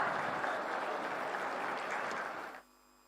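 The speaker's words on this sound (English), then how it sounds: "A huge round of applause, everyone." Steady crowd applause at the inauguration of a De Heus fodder factory in Rajpura, a dense wash of clapping from a sizable audience that cuts off abruptly near the end.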